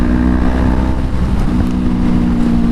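A Honda CBR500R motorcycle engine drones steadily while riding, a constant loud hum mixed with rushing wind noise and no voices.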